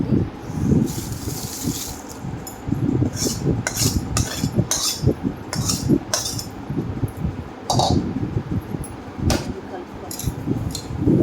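A spoon works fried chilli seasoning into cooked rice, making repeated metallic scrapes and clinks against the dish in an uneven rhythm while someone talks over it.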